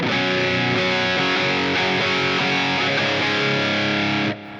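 A heavily distorted electric guitar chugs out a steady rhythm part through a Helix amp setup without a Tube Screamer, loud and close, with no talking, before cutting off near the end.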